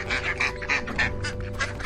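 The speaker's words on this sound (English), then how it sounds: "A car halts as hundreds of ducks take over the road. They waddle, squawk, gather like fluffy traffic lights." Hundreds of ducks crowding a road quack in a dense, rapid chorus, loud and close, with overlapping calls and no talking.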